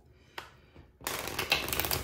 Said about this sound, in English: Let's get a couple of shuffles.